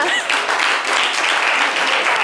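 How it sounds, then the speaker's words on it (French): An audience gives a short burst of steady, fairly close applause, with a voice heard briefly at the start. "Applaudissez-la."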